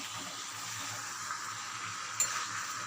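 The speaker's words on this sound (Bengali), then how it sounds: "কাঁঠালগুলো দিয়েও কিন্তু আমি কিছুটা পরিমাণ নাড়াচাড়া করে নেব, যাতে মশলাটা ভালো করে কাঁঠালগুলোর সাথে মেখে যায়" Jackfruit pieces and spices sizzling softly in a pan while being stirred, a quiet steady crackle with one sharp scrape near the end.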